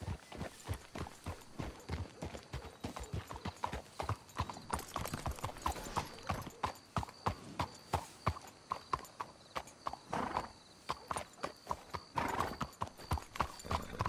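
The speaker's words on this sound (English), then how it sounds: "Let's hitch your horses up ahead." Horses' hooves clip-clop steadily in Red Dead Redemption 2, a rapid, close rhythm of hoofbeats with a brief whinny and faint ambient background.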